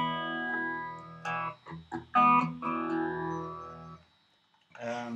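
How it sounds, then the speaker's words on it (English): An electric guitar through distortion and phaser pedals plays several sustained swirling chords and notes, then a short pause and another swelling chord. "And just some basic distortion and phaser."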